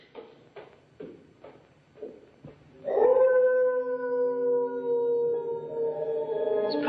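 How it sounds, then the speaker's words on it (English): At night a dog lets out a series of short whimpering yips, then breaks into one long, loud, sustained howl that holds steady, as if the animal is caught in a trap. "Probably a dog caught in a trap."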